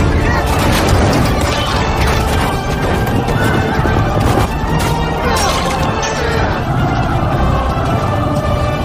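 War horses neigh and whinny loudly in battle amid hoofbeats and crashing commotion, with a dense, continuous din close by.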